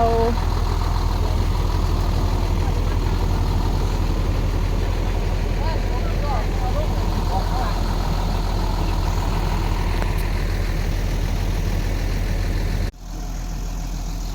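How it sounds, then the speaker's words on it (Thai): A tractor engine pulling a load drones steadily at low pitch, running close and loud for most of the stretch, then abruptly cuts down near the end. "รถไถมาดึงนะคะ"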